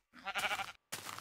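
A sheep bleats twice in Minecraft, two loud, close, wavering calls separated by a short gap of silence, with no talk.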